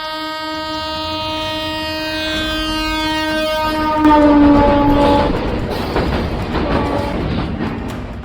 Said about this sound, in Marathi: जो ब्रिज तुम्हाला पाठीमागे दिसतोय त्यावरून ट्रेन जाते